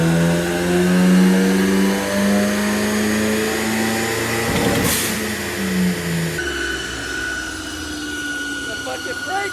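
A Ford Focus ST with a turbo runs loud and high on a dyno, a sustained engine drone with whine that shifts sharply midway, while people talk over it.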